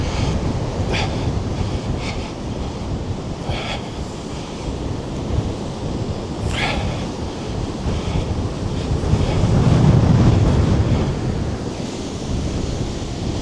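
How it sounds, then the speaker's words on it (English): Strong storm wind roars steadily against the microphone beside Lake Erie with a constant rumbling buffeting, swelling louder near the end, over a background of rushing water. "I don't know if you can hear me over the wind."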